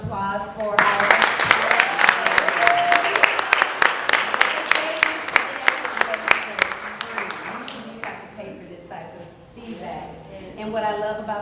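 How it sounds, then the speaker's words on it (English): A live panel audience gives a round of applause. Dense, bright clapping from many hands builds and holds for several seconds, then thins out as voices and talking take over near the end. "another round of applause for our"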